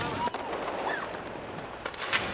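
Diwali firecrackers going off outdoors, with sharp crackling bursts and a few whistling rockets over a steady noisy background, while people talk nearby.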